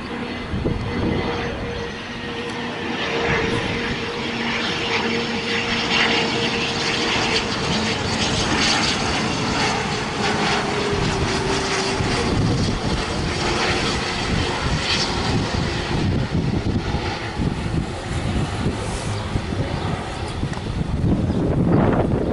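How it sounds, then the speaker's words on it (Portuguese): Airplane engines roar at an airshow at Sorocaba Airport, a loud, continuous drone with a rising and shifting pitch under strong wind noise, growing louder toward the end. "vou deixar vocês escutar o ronco dos motores"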